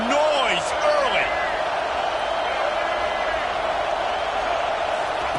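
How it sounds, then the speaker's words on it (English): Steady stadium crowd roar from the College Football 25 video game, a dense continuous wash of cheering that stays loud and even throughout, with a brief voice-like sweep near the start. "This crowd bringing the energy and noise early."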